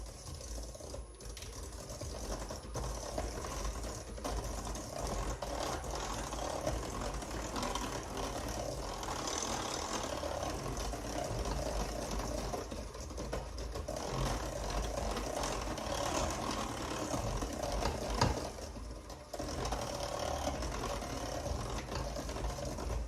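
Muffin batter is mixed in a bowl with a continuous, fairly quiet whirring and rattling that runs unbroken for over twenty seconds, with no voices.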